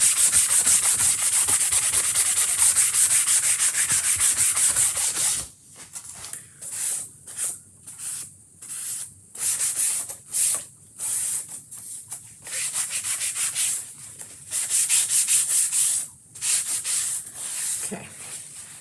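A chalk-painted snowman porch leaner being buffed by hand: a sustained loud rubbing hiss at first, then rhythmic back-and-forth scrubbing strokes with short gaps, close up and without talk.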